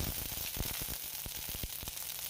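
Garlic cloves, ten to twelve of them, sizzle and crackle in hot mustard oil in a kadai, a steady close frying hiss broken by sharp pops and spits.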